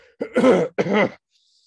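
A narrator's voice imitates a man's cough: two close, rough bursts, about half a second each with a short gap between, heard alone without other sound.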